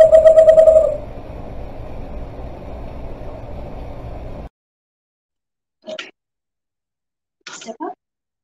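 A western screech owl gives a short call at close range, followed by a brief hum and then two quick soft chirps separated by silence.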